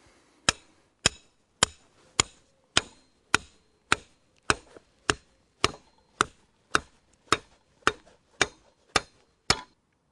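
Metal pins are hammered through the foot plates of a garden arch into turf, producing a steady series of about seventeen sharp, evenly spaced knocks, close and distinct against a quiet outdoor background.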